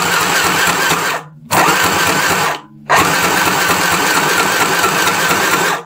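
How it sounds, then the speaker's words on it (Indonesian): A mini sewing machine stitches through a thick denim seam with nylon thread, its loud motor whirring steadily in three stretches, broken by two short pauses. "untuk pemakaian mesin jahit mini ini jangan langsung dipakai, diinjak terus tanpa berhenti, harus ada jedanya seperti ini"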